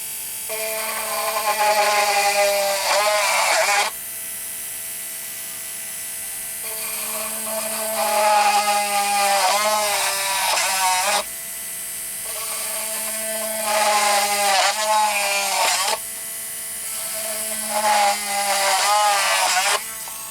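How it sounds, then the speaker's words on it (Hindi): Electric mini drill running in bursts while boring drainage holes through the bottom of a plastic pot, a steady high whine that rises and strains in several separate passes, close and loud. "प्लास्टिक के हों और उनके नीचे बॉटम पर सुराख करने पड़ते हैं ताकि उनका ड्रेनेज अच्छा बन सके, तो उसके लिए भी आप इस ड्रिल का इस्तेमाल कर सकते हैं"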